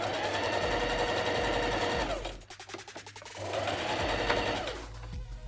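Singer Heavy Duty 4423 sewing machine stitching a buttonhole, a loud steady motor whir with rapid needle clatter that pauses briefly midway, then resumes at full speed with no talking.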